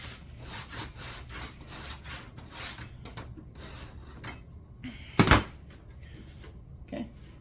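A scriber scratches a line across sheet metal in a fabrication shop with repeated rasping strokes at close range, followed by a sharp metallic clack and a softer tap near the end.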